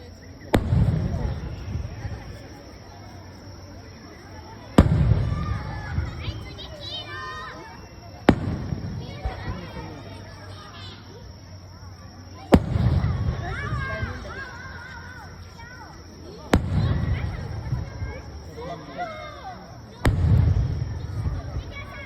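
A local fireworks display booms overhead, with six sharp blasts spaced a few seconds apart, each followed by crackling and fading rumble, while people chatter nearby between the bursts.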